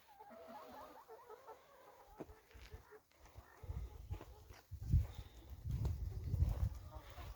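Chickens clucking softly in the background, with low thumping and scratching noises growing louder toward the end.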